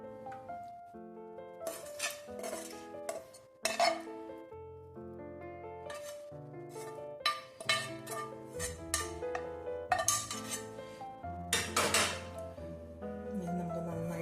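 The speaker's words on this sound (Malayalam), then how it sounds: "ഇനി നമുക്ക് ബാക്കിയുള്ള ചോറുകൂടെ ഇട്ട് കൊടുക്കാം." Cooked rice goes into a pot of mutton biryani with clinks and scrapes of a metal spoon against the vessel, over gentle melodic background music.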